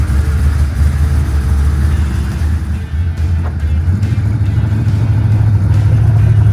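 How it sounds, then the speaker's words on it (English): A Chevrolet Malibu's engine runs at a steady, loud idle close by, a constant low rumble with little change in pitch. "fire the car up, and go for a little test drive"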